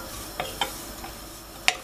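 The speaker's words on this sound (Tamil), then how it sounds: "இந்த மாதிரி நம்ம நெய்யில் அவலை வறுத்து பாயசம் பண்ணோம்னா ரொம்ப டேஸ்ட்டாக இருக்கும்." Red flattened rice (aval) roasting in ghee in a pan as a spoon stirs it: a few sparse, faint scraping clicks over a quiet background, with no talking.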